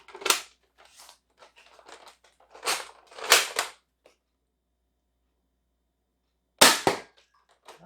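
A Lanard Huntsman 50 dart blaster fires its included darts in sharp, close clicking snaps, several quick shots in bursts with silent gaps between them.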